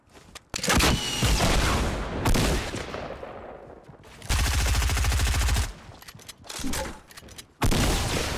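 Fortnite combat: bursts of rapid gunfire and booming rocket blasts from a quad launcher, loud and close, coming in several separated volleys with short gaps of quiet between them.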